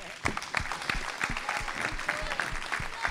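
An audience at a youth political panel applauding, a steady patter of many hands with distinct nearby claps, with some murmured talk mixed in.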